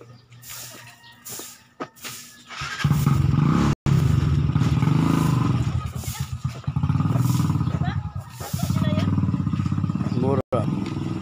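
A motorcycle engine starts up nearby and runs loudly, rising and falling, while people talk over it and things clatter and thump during an outdoor barangay clean-up drive in the Philippines.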